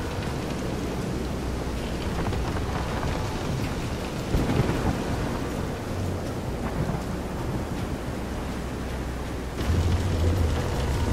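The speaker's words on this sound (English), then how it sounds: "This is some storm." A heavy storm in the video game Visions of Mana at sea aboard a pitching boat: dense, steady rain roars throughout, with deep rumbling thunder swelling midway and again near the end.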